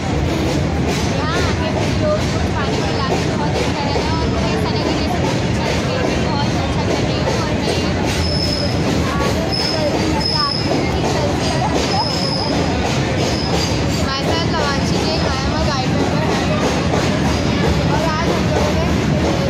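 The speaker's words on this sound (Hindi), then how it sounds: "आज हम रेलवे स्टेशन पे आए" Busy Indian railway station platform with a train present, dense crowd chatter and steady rumbling noise throughout, with repeated high squeals like train wheels or brakes partway through.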